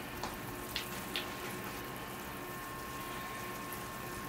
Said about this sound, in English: All right, here I go with the water. Give it a good thorough soaking.